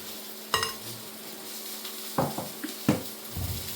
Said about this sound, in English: Get all that flour into the whisked eggs so it's all mixed together.